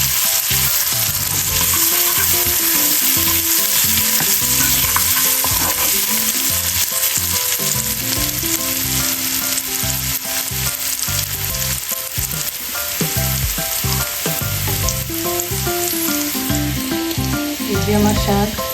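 Frozen red amaranth greens dropped into hot oil in a pan: a loud, dense, continuous sizzle and crackle with stirring, close and without talk.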